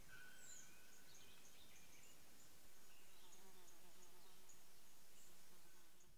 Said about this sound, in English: A fly is tirelessly chasing it around the forest